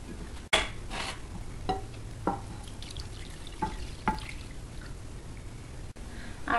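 A spoon stirs a roux of melted butter, flour, water, beef bouillon and salsa in a pan, soft scraping and sizzling with occasional sharper clinks against the metal, close up and without voices.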